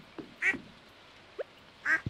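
Ducks in the farming game Stardew Valley Expanded give two clear, close quacks about a second and a half apart, with a faint shorter call between them and quiet game background, no talking.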